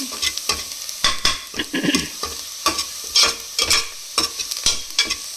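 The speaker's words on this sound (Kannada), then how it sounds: "ಚೆನ್ನಾಗಿ ಹೊಂಬಣ್ಣ ಬರಬೇಕು ಆ ಥರ ಫ್ರೈ ಫ್ರೈ ಮಾಡ್ಕೊಬೇಕು" Onions fry in a pan toward golden brown with a loud, close sizzle broken by frequent scraping stirs of a spatula against the pan, irregular and busy throughout.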